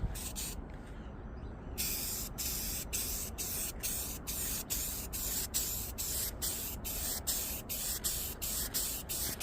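An aerosol can sprays gold paint onto a ceramic tile in steady bursts, a close, loud hiss broken by a dozen or so short regular pauses, with no talking.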